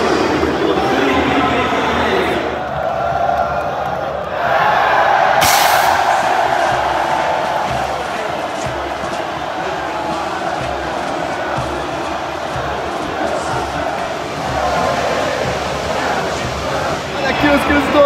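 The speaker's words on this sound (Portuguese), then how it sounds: "Saindo aqui a torcida do Palmeiras provocando." Palmeiras supporters celebrating a São Paulo state championship win roar and chant as a dense crowd leaves the stadium. The noise rises and falls in waves, and a nearby voice talks over it.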